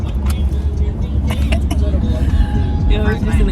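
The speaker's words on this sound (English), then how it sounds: "Yeah, we're just in the car." Steady road rumble and engine hum fill the inside of a moving car, a constant low drone with faint rattles and thumps throughout, heard up close.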